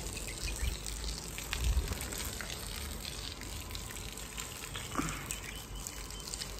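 Irrigation water arriving and flowing across dry village farm ground, a continuous gushing, trickling wash with faint splashes, steady and moderately close outdoors.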